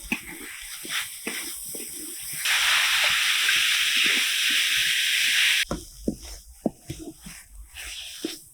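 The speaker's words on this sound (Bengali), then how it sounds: "কড়া গরম হয়ে গেছে আর এখানে দেখো একটা বড় সাইজের নারকেল আমি আগে থেকে কুড়ে রেখেছিলাম এবার কড়াইতে দিয়ে দিচ্ছি" Freshly grated coconut dropped into a hot wok gives a broad, loud hiss that lasts about three seconds, framed by quieter clinks and stirring noises.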